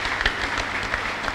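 Applause from an audience gathered in a church, a short burst of dense clapping that sounds close and steady throughout, with no voices standing out.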